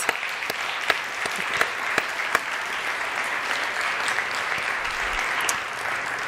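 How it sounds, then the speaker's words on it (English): Applause fills a school academic awards ceremony for sixth and seventh grade awardees, a steady crowd clapping throughout with a few sharper claps standing out, no talk over it. "Can we give another round of applause to all of the awardees?"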